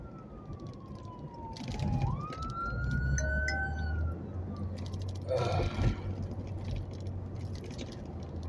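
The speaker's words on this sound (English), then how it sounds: "Here comes another ambulance." A wailing ambulance siren sweeps up and down as it passes at a distance, over steady traffic rumble and a faint voice nearby.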